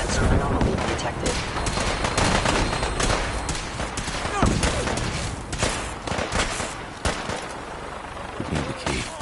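Heavy gunfire in a Fallout 4 battle at Bunker Hill, rapid shots and bursts cracking over one another for several seconds alongside game voices.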